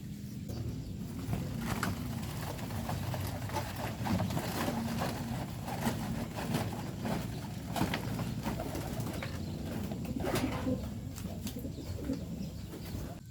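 Pigeons cooing in a loft, soft repeated coos layered over a steady low hum and background rumble, continuous for several seconds with no talk.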